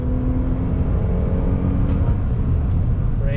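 A 2021 Toyota Highlander XSE AWD V6 drops a gear, its engine a steady close rumble and whir throughout with a slight rise in revs near the end.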